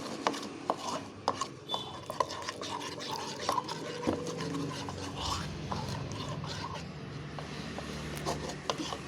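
Water is poured into a Manchurian sauce paste of tomato sauce and green chili paste and stirred in with a spoon, giving soft liquid splashes and scraping clinks against the bowl, close and moderately quiet.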